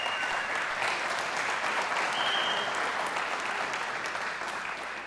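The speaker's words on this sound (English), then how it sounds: "you can give him a round of applause if you want" A church congregation at a Sunday service gives a steady, full round of applause, a continuous wash of many hands clapping that eases off slightly at the end, with no talking.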